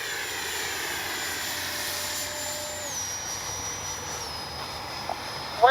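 An FMS Integral 80mm RC jet's ducted fan whines steadily as it flies past, pitch shifting downward mid-pass, with a brief sharp knock near the end.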